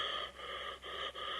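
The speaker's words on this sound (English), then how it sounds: "The most noise we get out of the shape is this pained breathing" Myers, the Shape from the video game Dead by Daylight, breathing in pained, raspy cycles, three or four strained breaths in quick succession with brief pauses between them, close and quiet.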